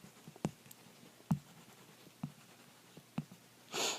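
Stylus or fingertip strokes on a screen, writing out Spanish -ar verb endings: five short distinct taps or scratches spaced about a second apart, faint and close, ending in a brief soft hiss.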